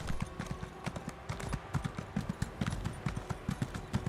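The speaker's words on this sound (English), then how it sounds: "I can use horse. Go faster." A horse's hooves clip-clop at a brisk, steady trot in The Elder Scrolls Online video game, crisp rhythmic strikes heard close and continuous with a faint background bed.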